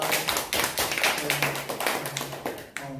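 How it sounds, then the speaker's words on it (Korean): A church congregation gives rhythmic, rapid clapping to welcome visiting families, a close burst of steady claps with a voice speaking over it near the end. "우리 박수로 환영합니다"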